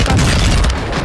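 A stun grenade goes off in Warzone 2, one loud, close, muffled boom that fills the whole short moment and fades slightly at the end.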